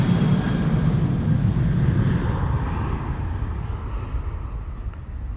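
An Air Europa Boeing 737 departing Amsterdam Schiphol toward Madrid, its engines giving a loud, steady low roar that fades slightly as the jet moves away, with no voices.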